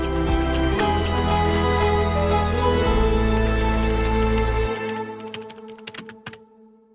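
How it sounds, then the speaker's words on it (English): Steady computer keyboard typing with rapid key clacks over a low humming backdrop, fading out toward the end. "Keyboard clacking, pen scratching"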